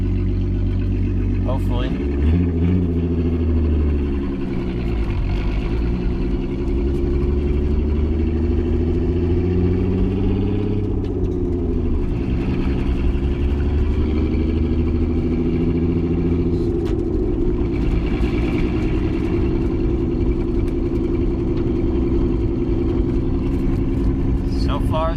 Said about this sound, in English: First test drive after putting a new piston in